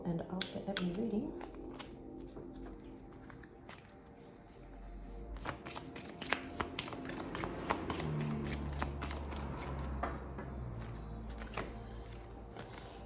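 Tarot reading cards being shuffled by hand, a long run of crisp riffling and tapping bursts, close and fairly quiet, with soft background noise and brief vocal sounds near the start.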